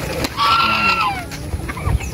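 Chickens at a market day, clucking and squawking close by in a short burst, with rustling and handling noises as a bird is caught.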